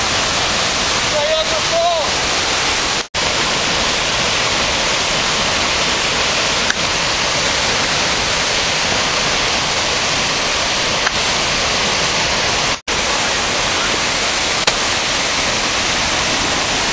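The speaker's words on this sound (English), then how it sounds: "There's a rumbling, thunderous rumble here." Flood water in Apple Canyon roars as a loud, continuous broadband rush, close and unbroken, with a brief voice near the start.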